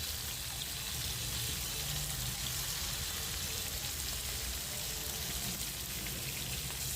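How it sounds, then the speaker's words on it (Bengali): Fish sizzles steadily in hot oil in a pan, a constant dense crackling hiss that carries on without a break, moderately quiet, with no talking over it. "মাছগুলি হালকা ভেজে তারপর রান্না করব"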